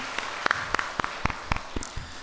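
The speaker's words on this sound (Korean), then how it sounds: "우리 한번 격려 박수 보내겠습니다" A few members of a church congregation clap during a Sunday service, the sharp claps sparse and slightly uneven, about four per second, brief and fairly close.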